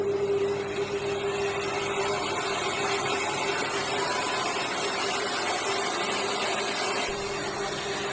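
An electric mixer beats an egg into sponge pudding batter, making a constant motor hum and whir that stays close and steady throughout with no talking.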